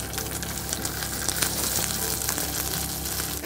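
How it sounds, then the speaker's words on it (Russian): Navaga fish fries in a pan inside an ice-fishing tent, a loud continuous hiss and crackle of hot oil with scattered pops, steady and close, with no talk. "Не знаю, что происходит с мясом, но она начинает почему-то плясать на сковородке"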